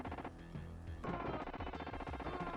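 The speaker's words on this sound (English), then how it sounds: "the guns sound kind of weak, and everything sounds muffled" Gunfire from the T2 arcade game on Super Nintendo, with rapid repeated shots from a weak, muffled-sounding gun running continuously and fairly loud against dense game music and effects.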